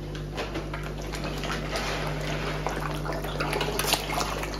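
Water from a filter on a tank of imported Thailand koi rushes and splashes steadily and loudly over a constant low hum, with no voices.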